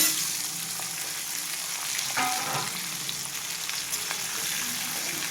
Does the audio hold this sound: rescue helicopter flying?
no